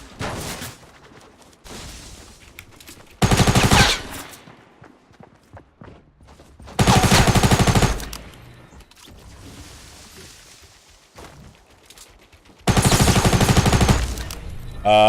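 Three loud, dense bursts of rapid automatic fire from a tactical SMG in a video game, each lasting about a second, separated by quieter gameplay sounds and faint clicks.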